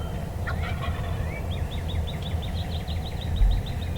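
Wild turkey gobbling from a distance outdoors, a rapid rattling series of calls trailing off, heard over steady ambient noise.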